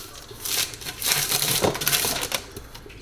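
Small plastic bag holding a lightsaber handled close up, with crinkly crumpling rustles in irregular bursts over about three seconds and no talk.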